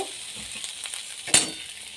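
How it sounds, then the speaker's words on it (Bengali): An egg frying in a pan gives a steady, soft sizzle with a brief louder crackle or stir near the end, close by and without talk. "ডিমটা ভাজা ভাজা হয়ে গেছে।"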